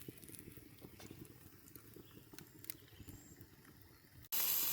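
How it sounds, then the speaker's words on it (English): Faint, steady sizzling of a T-bone steak in an outdoor fire pit oven, with scattered crackles and pops, continuous and quiet, then an abrupt burst of loud noise at the very end. "You can hear it sizzling."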